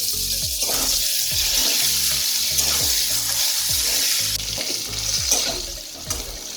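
Salted potatoes fry in hot oil in a pan for a katla fish curry with cauliflower, a constant sizzle broken by regular low knocks of a spoon stirring against the pan.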